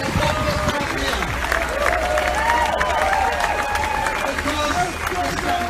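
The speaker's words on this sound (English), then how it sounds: "Give them a clap for this wonderful here." Sustained applause and cheering from a large, excited rally crowd in Harrow for a candidate's campaign team, a steady loud roar of clapping with voices shouting over it.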